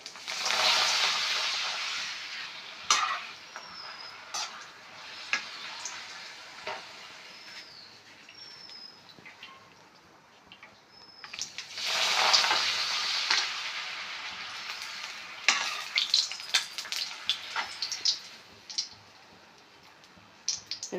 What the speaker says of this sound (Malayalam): അപ്പോൾ ഞാൻ പപ്പടം വറുക്കാൻ പോവാം.